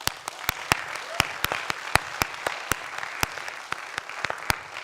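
Conference audience applauding presenters of research at a scientific meeting in Göttingen, a steady run of sharp, distinct claps from a modest crowd, fairly close and continuous for about five seconds with no talk over it.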